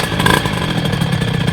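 A cold 70cc Barikit AM6 motorcycle engine on a CR frame fires up without choke, a brief, loud, raspy two-stroke burst with rapid clattering pulses.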